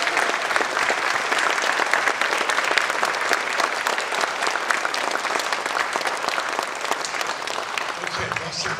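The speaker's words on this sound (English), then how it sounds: "give a big applause." A standing audience applauds the Governor of West Virginia at a Christmas ornament unveiling, with dense, sustained clapping filling the room at an even level for several seconds.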